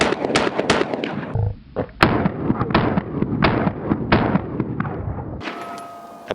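Fowler Vanta 9 pistol fired rapidly at a range, a fast string of sharp, loud shots with short gaps, ending in a brief ringing tail.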